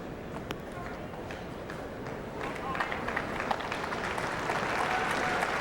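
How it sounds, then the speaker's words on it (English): Spectators at a women's curling game applaud in a moderate, rising patter of clapping, with a voice talking over it. "Very appreciative crowd."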